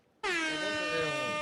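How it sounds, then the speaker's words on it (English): A loud, sustained air horn blast starts abruptly and holds steady with a brassy, buzzing tone. "No, I want the air horn shit."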